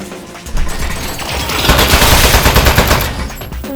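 A turret fires in the video game Aperture Desk Job, producing a loud, sustained burst of rapid gunfire that builds and then holds at full intensity.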